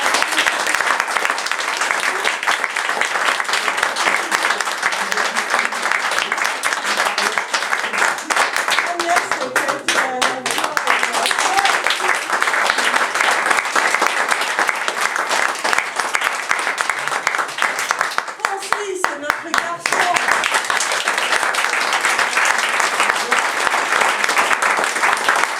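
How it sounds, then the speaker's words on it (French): Sustained audience applause fills a room at a French event, steady and dense for the full duration, with a few voices briefly audible beneath the clapping. "Josette, nous allons l'applaudir parce qu'elle est là."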